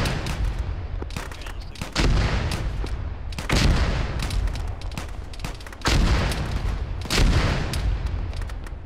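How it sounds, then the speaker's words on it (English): Mortar shells land close by in a ShackTac military game, heavy booms mixed with steady crackling gunfire, several loud impacts rolling in every second or two throughout. "Those mortars are landing on top of us."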